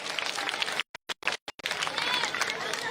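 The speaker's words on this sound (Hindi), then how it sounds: "एक बार जोरदार तालियां बजा दो भाई सी बात पर" Crowd applause at an outdoor political rally during a slum-dwellers' campaign march, a dense wash of clapping that breaks into a few short silent gaps before swelling again, with voices mixed in.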